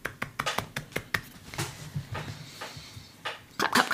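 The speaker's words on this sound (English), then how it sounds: "So I think we can all applaud oldest sister of the podcast." A few hands clap close to the mic in a quick, uneven burst of sharp claps that thins out partway through. Another short flurry of claps follows near the end, heard in a quiet room.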